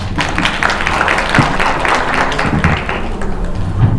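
Clapping fills a conference hall at a KOICA civil society project results-sharing event in Korea as a discussion moderator is welcomed, a loud, close applause with distinct individual claps running steadily for four seconds.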